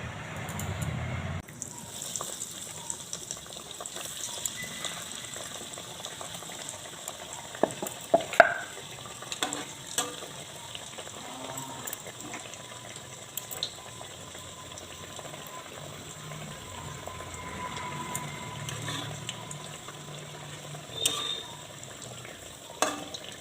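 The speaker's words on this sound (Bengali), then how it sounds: "এবার এগুলো সব ভেজে নেবো এক এক করে" Quiet, continuous frying bubble of stuffed vegetable bread pockets in hot oil, with occasional faint clinks and stirring, sustained at low level throughout.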